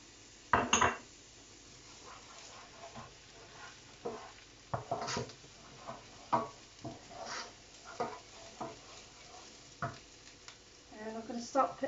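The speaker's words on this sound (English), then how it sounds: "Okay, so we're going to put our garlic in." Garlic fries gently in a pan, a faint sizzle beneath irregular clinks and scrapes of a utensil against cookware, with occasional louder knocks.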